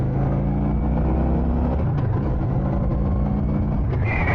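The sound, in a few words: motorcycle engine revving in neutral, stock exhaust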